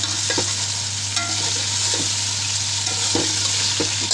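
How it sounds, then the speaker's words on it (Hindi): Chicken for pulao fries in a pot with a continuous sizzle. A spoon stirs it now and then, scraping against the metal, and the hiss stays dense and close throughout. "चिकन को पूरा भून देंगे।"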